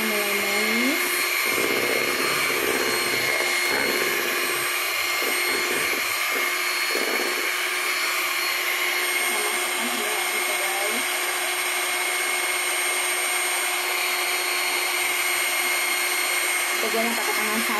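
An electric hand mixer whipping Swiss buttercream, giving a steady, close, continuous whirring drone throughout, with someone talking over it near the start.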